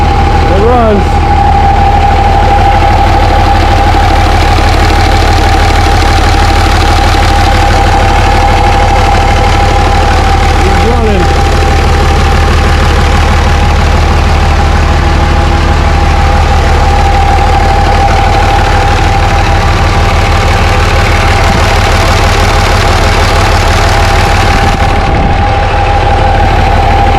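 A 2006 Dodge Cummins diesel idles steadily after a repair with a new injection pump, a loud continuous low rumble with an even knock that runs unbroken from start to finish.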